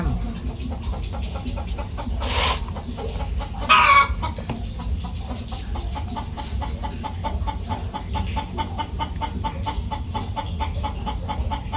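Chickens clucking repeatedly in a noisy outdoor setting, with steady low rumbling background and a brief louder squawk partway through, a hen clucking to lay an egg.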